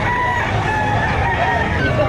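A rooster at a livestock auction market in Padre Garcia, Batangas crows loudly and near, drawn out over a bed of crowd murmur and background activity.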